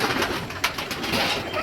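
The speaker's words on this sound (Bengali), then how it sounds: "খুবই সুন্দর মারাত্মক পায়রা দেখতে পাচ্ছ তোমরা" Pigeons of a high-flying racing breed coo softly amid steady background noise, low murmuring calls running through the short stretch with one brief louder knock midway.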